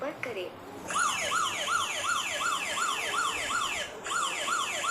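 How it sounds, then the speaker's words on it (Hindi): A locked mobile phone blares its anti-theft alarm, a loud, rapidly repeating electronic wail that sweeps up and down like a siren, steady and close, with a brief break near the end. "ये मोबाइल पूरी तरीके से लॉक हो चुका है और अलार्म करने लगा है"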